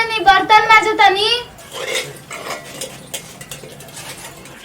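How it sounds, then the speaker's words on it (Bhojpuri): Pots and dishes being scrubbed and washed by hand in a home give off clinks and scraping clatter, close by, after a person speaks at the start. "बर्तन माजतनी"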